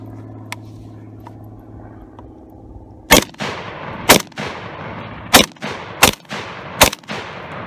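PTR-91 rifle fired at Toyota hubcaps outdoors: after a few quiet seconds of low hum, five loud, sharp shots crack out at uneven intervals, each leaving a brief rumbling echo.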